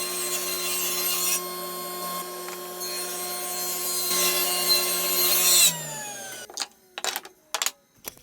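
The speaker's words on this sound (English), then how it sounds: "So we'll go ahead and rip 2 pieces out of this walnut for the 2 sides" Walnut boards ripped lengthwise on a saw for cabinet sides: a steady, loud harmonic blade whine runs through the cut and winds down near the end, followed by a few short knocks and clatters of wood being handled.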